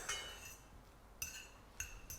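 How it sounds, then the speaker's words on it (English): A metal fork fluffing freshly cooked rice in a pot, giving a few sparse, light scrapes and clinks against the pot at irregular intervals, close and quiet. "now we can just fluff that rice up with a fork"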